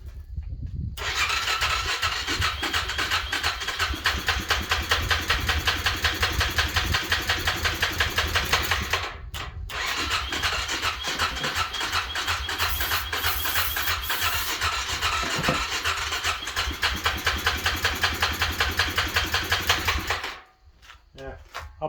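A 2009 Suzuki Quadrunner 400 4x4 ATV engine cranks over and over without catching, a steady rapid mechanical chugging that runs loud and close for about twenty seconds with one brief pause before cutting off.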